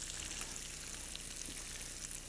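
Fish fillets coated with hazelnuts fry in a pan with a soft, continuous sizzle and scattered tiny pops, heard alone without talk.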